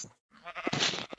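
Sheep bleating in the Minecraft video game, a short wavering blat that follows a brief gap of quiet, heard fairly softly without talk.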